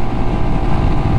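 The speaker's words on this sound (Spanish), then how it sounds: "Bueno, está más fuerte el vientito, la verdad" Strong crosswind buffeting a microphone on a motorcycle ride along an Argentine coastal highway, a constant loud low roar with no breaks and no talking.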